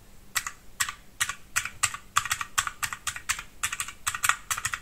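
Crisp plastic calculator key clicks tapped in an irregular typing rhythm, close and fairly quiet, sounding much like a typewriter with no voices.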